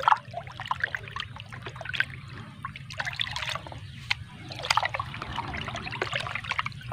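Straw and goat manure compost mix being stirred and turned by hand, giving a soft, continuous rustling and crunching with scattered brighter crackles and a low background rumble, no talk.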